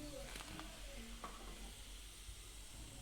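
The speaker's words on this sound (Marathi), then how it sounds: "अशा प्रकारे सगळे ट्रँगल्स मी तळून घेणार आहे" Triangles for a fasting recipe fry in hot oil with a soft, steady sizzle and a few brief clinks and stirring sounds early on, quiet and close with no speech.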